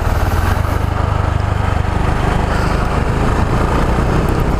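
A KTM Duke 690 motorcycle from 2018, in A2-restricted form, runs steadily while being ridden, its engine drone a continuous loud rumble with wind noise throughout and no talk.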